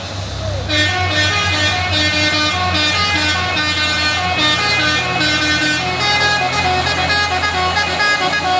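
Palm oil trucks in a convoy labor up a steep hill, heavy diesel engines droning loudly with repeated horn toots layered over the grinding climb.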